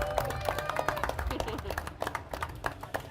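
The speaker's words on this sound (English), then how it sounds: "So I want a round of applause." Audience at a SIGGRAPH 2015 panel discussion in Los Angeles clapping for a panelist, a quick irregular patter of hand claps at modest level with faint voices murmuring underneath.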